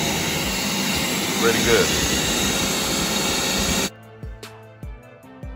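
A 6-gallon air compressor runs with a loud, steady broadband roar and hiss for about four seconds, then cuts off abruptly, leaving quiet clicks and a brief voice.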